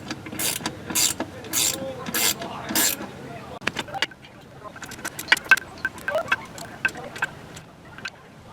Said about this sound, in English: run them down with a ratchet